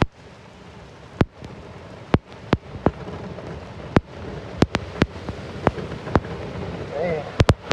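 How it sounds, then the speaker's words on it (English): Steady hiss of heavy rain pouring down, with loud sharp drips or splats striking close by at irregular intervals. "That's a downpour."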